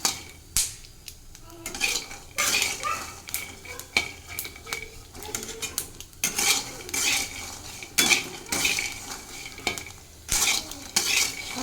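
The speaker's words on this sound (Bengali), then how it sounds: "সেই বাদামটা সোনাকে ভাজে ভেজে দিচ্ছি" Peanuts being fried in a home pan, with a utensil repeatedly scraping and stirring against the metal in uneven bursts over a soft sizzle, close up and without talk.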